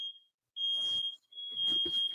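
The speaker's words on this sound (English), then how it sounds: "Right, that's the fire alarm." A piercing, high-pitched smoke alarm beep sounds repeatedly, with muffled voices and movement in between.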